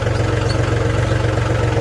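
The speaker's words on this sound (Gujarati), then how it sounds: "ચાલો હવે લાઈન ભરવા જાય છે ટ્રેક્ટર લઈને" A tractor engine runs on a farm with a steady, close, low chugging idle and an even pulsing rhythm, alone for about two seconds.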